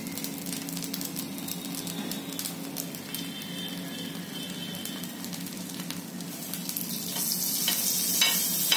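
Amboli dosa batter sizzles steadily on a hot pan, a dense continuous crackle with no voices, the hiss growing brighter and louder toward the end.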